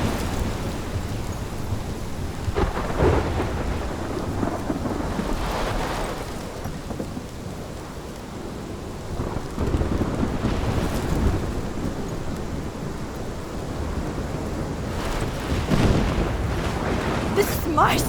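A roaring thunderstorm from the game Life Is Strange, with loud, continuous rain and wind and repeated rumbles of thunder rising and falling throughout.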